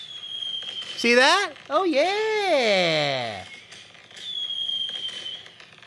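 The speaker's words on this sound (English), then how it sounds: "here's a little firework for you" A small firework whistles with a rising then falling tone, then ends in a brief crackle, while someone talks over and around it.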